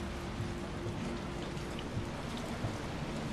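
Steady rain falls in the Resident Evil 3 Remake game, a continuous even hiss of drops with faint low rumbling beneath, no voices.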